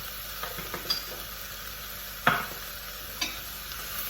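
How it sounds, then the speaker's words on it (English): Mince cooks over medium heat in a pan under a soft, steady sizzle, while a spoon stirring it adds a few scattered scrapes and taps, one louder than the rest. "I'm just going to let this cook out, just stirring it"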